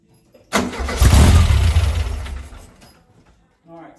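A car engine fitted with a Weber 44IDF carburettor catches and revs sharply on the throttle, a loud roar that swells and then slowly dies back toward idle over a couple of seconds.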